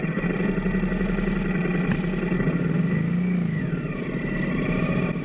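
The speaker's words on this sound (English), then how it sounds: "This engine has a beautiful rumbling sound to it." A Royal Enfield Interceptor 650 motorcycle's twin-cylinder engine rumbles steadily up close, a deep throbbing idle with a slight rise in revs partway through.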